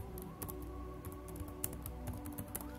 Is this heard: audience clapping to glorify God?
no